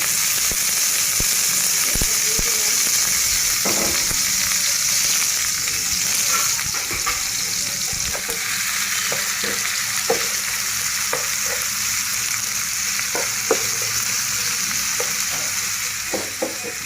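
Oil sizzles steadily in a pan while frying for an Old Dhaka chicken vegetable roll, a loud, continuous close hiss with scattered small pops and stirring clicks throughout.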